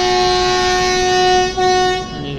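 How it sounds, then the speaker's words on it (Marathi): A Konkan Railway train pulls out of Anjani station, sounding a loud, sustained multi-tone horn close by that dips briefly and then fades as it moves off. "आणि गाडी आता निघालेली आहे अंजनी या रेल्वे स्थानकामधून"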